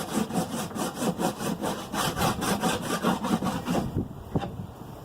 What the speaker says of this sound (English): I'm going to rub a little bit on the inside here of the lid.